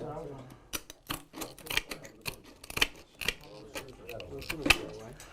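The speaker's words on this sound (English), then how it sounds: "from there I'll just get my snips, kind of fold that up so we can get in there." Metal snips cutting a Decra stone-coated metal roof panel, a rapid run of sharp crisp clicks and crunches, loud and close, with someone talking intermittently over the cutting.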